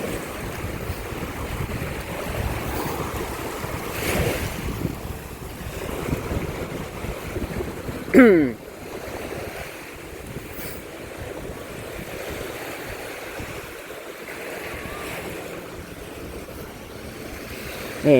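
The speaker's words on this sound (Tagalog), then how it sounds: "malakas yung alon" Continuous heavy roar of ocean waves and wind at Boracay Island, with surges rising and falling over a long stretch; a brief sharp clatter midway.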